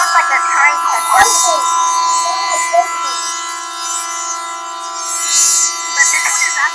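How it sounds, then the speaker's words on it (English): An Emergency Alert System siren blares with a loud, sustained, horn-like tone resembling a train horn, steady throughout with a few brief bursts and overlapping voices mixed in. "That sounds like a train horn."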